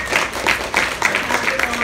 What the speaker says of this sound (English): You can applaud Billy Zane.